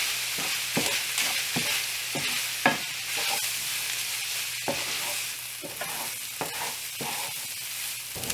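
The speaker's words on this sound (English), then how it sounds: "sprinkle in 2 tablespoons of flour and stir that around" Flour stirred into sausage and mushroom gravy in a hot pan, a steady sizzle running underneath as a spoon scrapes in regular strokes, close and continuous.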